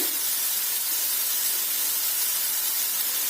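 Chopped capsicum and mixed vegetables sautéing in a pan, a steady even hiss of frying that holds unbroken and fairly loud throughout, with no talk.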